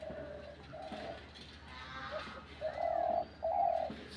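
A pigeon used as a hunting decoy coos in short, repeated phrases, with two louder calls near the end against a quiet background.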